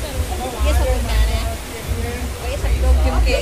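Heavy rain and floodwater rushing across a road in Haldwani, India, a loud, steady roar of flowing water with people talking over it throughout.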